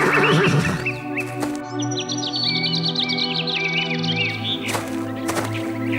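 A horse neighs loudly, a long quavering whinny with a sharp snort at the start, while birds chirp faintly in the background.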